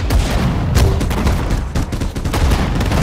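Dense battlefield gunfire from a Sudden Strike 4 World War II skirmish at Bataan: overlapping rifle and machine-gun bursts with heavy booms, sustained and loud throughout without pause.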